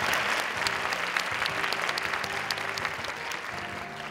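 Sustained applause from a large crowd at an ambassador appointment ceremony, steady clapping throughout, with a faint murmur of voices underneath.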